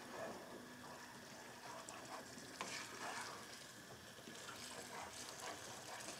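Risotto rice cooks in a pan with a soft, continuous sizzle and bubbling, overlaid by gentle scraping from stirring, faint and steady throughout.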